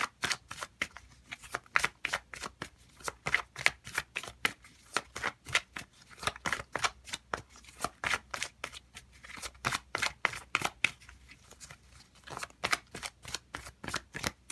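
Tarot cards from a Madame Endora deck are shuffled and handled close by, giving a long run of quick, evenly spaced papery riffles and snaps, soft but steady, with no talking.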